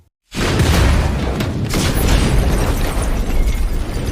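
A sudden loud film explosion erupts after brief silence, followed by a sustained roaring rumble of debris and fire that fills the whole stretch.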